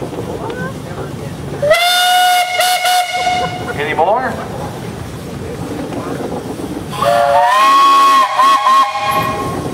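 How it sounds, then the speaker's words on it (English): A steam engine's whistle blows two long, loud blasts at an outdoor Pioneer Engineers Club parade, with rumbling machinery between them and a brief voice nearby. "Dion, you got a whistle."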